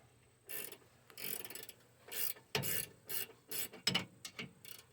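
A ratchet tightens bolts during a rear brake job on a 2003 GMC Sierra 1500 with a 5.3L engine, giving close bursts of raspy clicking strokes separated by brief pauses, with no talking.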